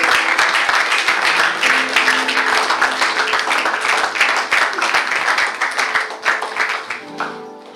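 Sustained applause from a seminar audience standing together at a religious gathering, dense steady clapping filling the room for several seconds before tapering off at the end.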